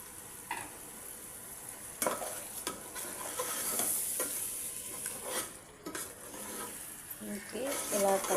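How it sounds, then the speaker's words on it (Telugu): Chicken with blended tomato sizzles and fries in a pan while a spoon stirs it, with scraping strokes and clinks against the pan over a steady frying hiss. "ఇలా కలబెట్టుకుంటూ మూత పెట్టుకొని కలబెట్టుకుంటూ మంచిగా ఉడికించుకోండి"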